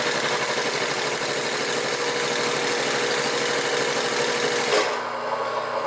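A Singer 31-15 industrial sewing machine runs steadily as it stitches marine vinyl, its loud, close, continuous mechanical whir holding for about five seconds before it cuts off and leaves a quieter hum.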